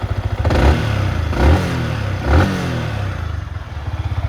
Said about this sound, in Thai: เดี๋ยวผมลองเร่งเครื่องให้ดูนะ